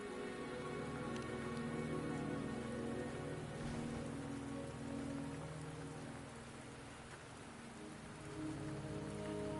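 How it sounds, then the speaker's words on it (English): Steady in-game rain patters on surfaces throughout a mountain adventure scene, a soft continuous hiss that dips briefly in the middle before returning, with no voices. "Don't worry, the rain won't last much longer."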